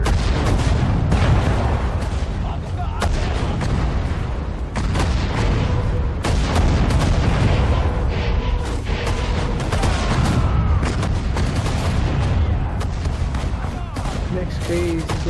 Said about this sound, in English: multiple rocket launcher